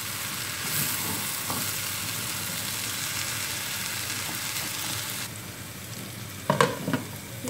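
Vegetables and onion sizzle steadily in a frying pan, a continuous close hiss broken near the end by a few clattering stirs.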